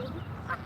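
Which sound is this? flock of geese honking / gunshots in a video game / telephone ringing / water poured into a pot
flock of geese honking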